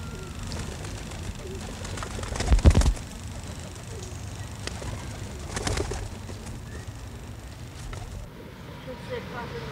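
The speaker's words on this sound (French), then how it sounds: "Mais il y en a des fois, je suis plein de pigeons" Pigeons coo in a park, with low throaty calls and a louder burst near the start, set against faint background noise, while people talk.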